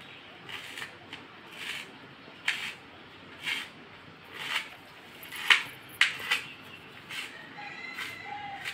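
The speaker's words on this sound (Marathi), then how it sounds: "कोथिंबीर थोडी थोडी कापून घ्यायची." Fresh coriander is cut a little at a time, giving a slow series of about a dozen crisp, separate cutting snips and chops, fairly close and spaced under a second apart over a quiet background.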